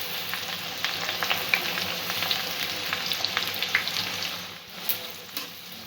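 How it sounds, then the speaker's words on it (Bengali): Onions frying in a pan over a medium-low gas flame for chicken curry: a steady crackling sizzle with scattered sharper pops, close and continuous with no voices. "পেঁয়াজটা ভালো করে একটু ভেজে নেব"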